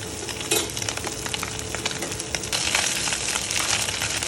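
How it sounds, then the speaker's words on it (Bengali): Small kachki fish fry in a pan with a steady, close sizzle that grows louder and busier halfway through. A brief metallic clink comes near the start. "কাচকি মাছ মোটামুটি ভাজা হয়ে এসছে, কিছুটা তো ভাজা হয়ে গেছে"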